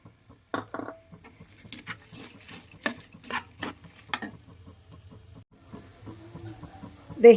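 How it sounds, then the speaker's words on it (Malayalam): Metal spoon scraping and clanking against a pan while crushed pappadam is stirred into an egg and potato dish, a quick series of close clatters followed by a soft sizzling hiss. "ഇതിലേക്കിനി നമ്മൾ പൊടിച്ച് വെച്ചിരിക്കുന്ന പപ്പടം ചേർത്ത് കൊടുക്കണം"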